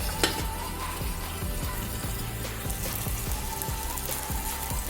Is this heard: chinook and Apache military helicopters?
no